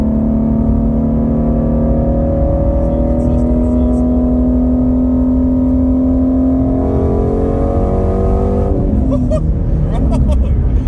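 A Ford Mustang GT350 engine with a Borla Attack axle-back exhaust revs loudly and continuously up close, its raspy exhaust note rising and falling in pitch without any talking over it.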